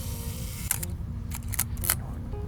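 A film SLR camera fires its shutter at slow speeds, giving several close mechanical clicks in uneven sequence, some paired open-and-close, over a low steady hum.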